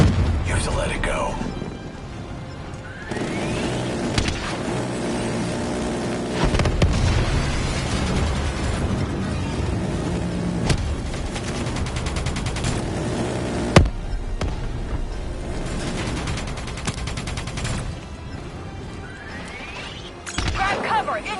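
Missile blasts and gunshots in a Call of Duty Black Ops 3 campaign battle: deep booming explosions rise and roll over a busy, rumbling soundscape, with one sharp loud burst and scattered pops.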